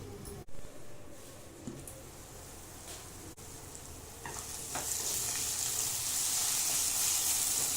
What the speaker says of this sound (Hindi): लो फ्लेम में प्याज और टमाटर को गलने के लिए छोड़ दे रहे हैं।